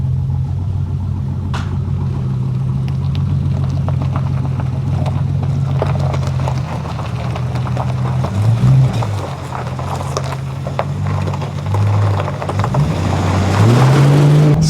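A deep, rumbling V8 Land Rover Discovery engine idles steadily with a loud aftermarket exhaust, revving up a few times with rising and falling tones near the end.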